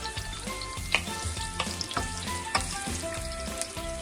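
Carrots sizzle loudly in a hot pan and are stirred with repeated scraping strokes every half second or so, close and continuous with no voices.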